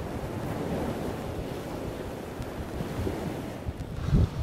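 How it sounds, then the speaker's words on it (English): Steady low roar of sea surf on a beach at low tide, broad and continuous with wind buffeting the microphone, a brief louder thump near the end. "You can hear the roar of the sea already on this little track."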